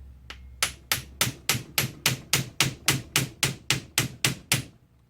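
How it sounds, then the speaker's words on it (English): An impact driver hammers at stubborn Phillips screws during a Mazda MX-3 clutch replacement, firing about thirteen evenly spaced loud, close rattling bursts in a steady rhythm. "I have an impact driver that I'm going to use"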